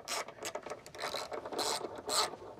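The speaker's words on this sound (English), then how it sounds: "we're just going to get all these snugged up" Bolts being snugged up on a Jeep Wrangler JL spare tire carrier, with quick bursts of ratcheting and scraping metal clicks in an uneven rhythm, close and fairly quiet, no speech.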